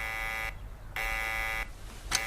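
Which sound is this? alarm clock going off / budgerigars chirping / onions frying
alarm clock going off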